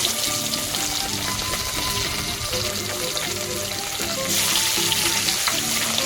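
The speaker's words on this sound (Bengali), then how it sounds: "কড়াইতে পরিমাণ মতো তেল তেল গরম হয়ে গেছে এবার মাছ দিয়ে দিচ্ছি" Fish seasoned with turmeric and salt frying in hot oil in a wok, a loud, steady crackling sizzle that swells slightly toward the end, heard close with no talking.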